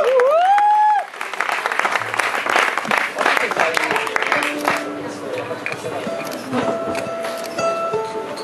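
Lively audience applause and clapping for a band after a live performance, loud and sustained throughout, with crowd noise mixed in.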